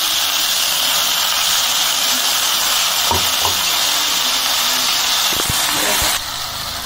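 Ground spice paste for a katla fish curry fries loudly in a pan, a dense, continuous sizzle with a few brief clanks of stirring near the end.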